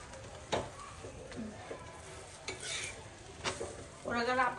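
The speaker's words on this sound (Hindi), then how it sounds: "इसको खूब अच्छे से ऐसे दबा दबा के हम सेकेंगे ना, तो और चित्तीदार बनते हैं" Paratha pressed down with a spoon as it roasts on a hot griddle, giving soft scraping and light sizzling with a few sharp clinks of metal on the pan, close and fairly quiet.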